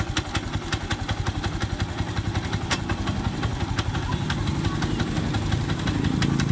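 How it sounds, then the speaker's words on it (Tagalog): A Yamaha YTX motorcycle engine idles close by with a rapid, regular mechanical knocking and ticking, the rhythmic clatter growing slightly louder over time while someone talks briefly. "Paminawa niyo yung nagapak siyang makina."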